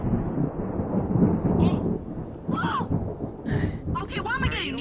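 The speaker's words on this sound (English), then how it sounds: "that's my Titan Lightning." Titan Lightning attack from a Sonic fighting game, a rumbling crackling thunder burst under game noise, with sharp zaps and sweeping electronic effects flaring in short bursts near the end.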